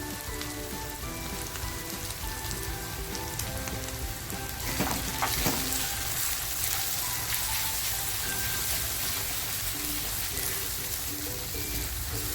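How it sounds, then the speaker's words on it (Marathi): Homemade spice masala paste with garlic, coriander, chili and turmeric fries in a pan for a dry surmai fish chutney, giving a steady, dense sizzle throughout with faint stirring scrapes midway. "आपल्याला हा मसाला छान परतवून घ्यायचा आहे"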